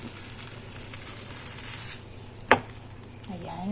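Bread fries in butter in a pan, a faint steady sizzle with a sharp utensil clink partway through and a brief spoken word.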